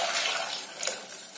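A short, steady stream of buttermilk pours into a container nearby, a brief splashing trickle with no talk.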